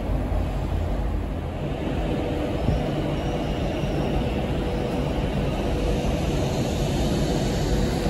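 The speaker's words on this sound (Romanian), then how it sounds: "Tren Avanti Coast plecând către London Euston." An Avanti West Coast train departs a Liverpool station for London Euston, its steady low rumble and rolling rail noise continuous and fairly loud throughout, with no talk.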